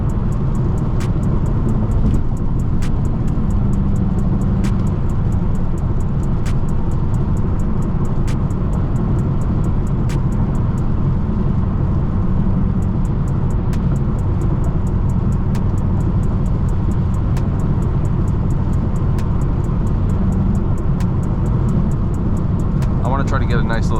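A BMW M6 drives on a wet road at night in the rain, a steady loud cabin roar of engine and tyre spray with faint regular ticking, while people talk over it.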